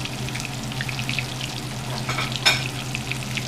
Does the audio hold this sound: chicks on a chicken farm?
no